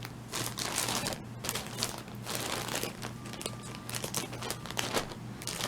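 A plastic Shein shipping package is cut open, with close, quiet crinkling and rustling plastic and irregular scraping snips throughout.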